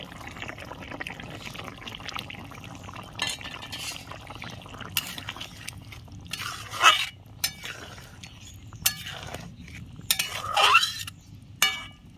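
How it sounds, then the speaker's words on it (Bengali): Boiled eggs going into a pot of simmering Bangladeshi potato and egg curry, with low bubbling and several clinks and scrapes of a spoon against the pot, close and moderately loud, no talking. "ঝোল ফুটে উঠেছে, সেদ্ধ রাখা ডিমগুলো আমি দিয়ে দিচ্ছি।"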